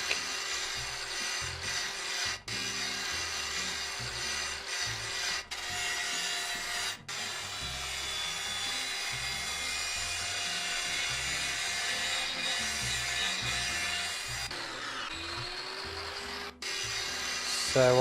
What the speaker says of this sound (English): The derust and sandblast treatment for this tank.